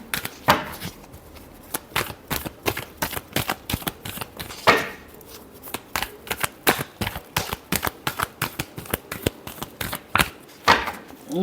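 Tarot cards shuffled by hand in quick, irregular riffling bursts, a dense run of close crisp flutters and snaps with short pauses between.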